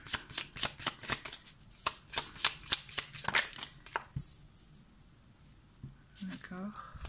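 Oracle cards being shuffled by hand, a rapid run of crisp riffling flicks for about four seconds, then quieter handling with a voice briefly speaking near the end.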